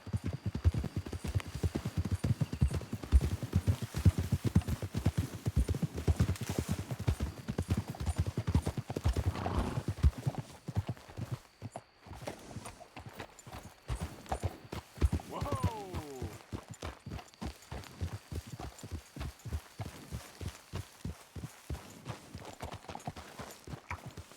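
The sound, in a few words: horses galloping in Red Dead Redemption 2 video game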